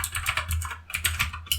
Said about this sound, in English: They sound nice. They're easy to press. There's enough space between the keys.